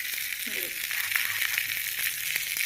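Cashews, followed by raisins, roast in a pan for moong dal payasa, giving a continuous bright sizzle with light stirring clicks, close and fairly loud.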